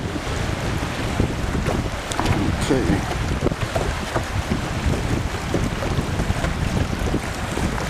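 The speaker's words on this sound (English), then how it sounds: "Check out these big waves." Strong wind and big waves on a northern lake, with constant rushing wind buffeting the microphone over the wash and slap of water against a boat, and a brief word spoken.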